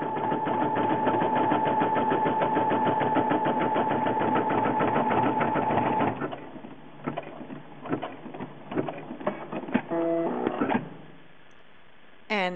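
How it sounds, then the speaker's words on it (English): A Brother home sewing and embroidery machine stitches blue thread for a Frozen Christmas stocking, a fast, steady, close mechanical whirring and rattling for about six seconds. It stops, and scattered clicks and handling noises follow. "load in my blue, and here we go. We are adding more detail to our beautiful Elsa"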